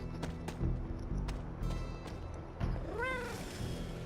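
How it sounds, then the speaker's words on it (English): In the video game Marvel's Midnight Suns, a cat gives a short, rising and falling meow near the end, heard over game sounds with a few soft thuds before it. "Oh, the cat."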